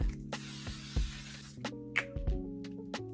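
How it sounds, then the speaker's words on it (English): Setting spray misted onto a face during a makeup routine: a steady hiss of spray lasting over a second, followed by clicks and handling noises over a background hum, close by with no talking. "If you want your makeup to last, I say use 2 setting sprays."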